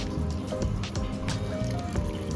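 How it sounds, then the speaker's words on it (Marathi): Hot water pours and splashes into a pot of chicken, a wet, bubbling trickle with a few drips, close and steady for a couple of seconds. "चिकन छान असं शिजायला पाहिजे म्हणून गरम पाणी टाकून घेते मी"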